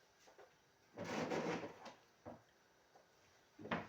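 Drawer sliding open or shut in a home, one longer rumbling scrape followed by a few short knocks and clunks, close and fairly quiet with no talking.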